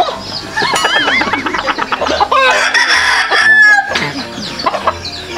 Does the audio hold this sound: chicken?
yes